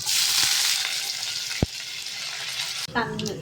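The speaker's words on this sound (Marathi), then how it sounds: "गरम झाल्यानंतर आपल्याला टाकायचं आहे आलं, लसूण आणि कढीपत्ता" Ginger, garlic and curry leaves hit hot oil with mustard seeds while cooking shev tomato bhaji, giving a loud, dense sizzle that fades slightly before a utensil clatters near the end.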